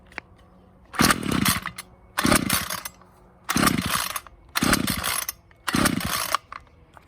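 A Ryobi CS26 two-stroke string trimmer fires in five separate loud, raspy bursts, each under a second long, bogging and cutting out between them into near silence.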